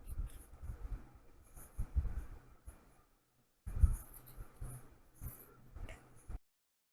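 Scissors cutting an IKEA Fonsterblad blockout roller blind to width, close and moderately loud, with irregular snipping and rustling of the fabric in two bursts separated by a short pause.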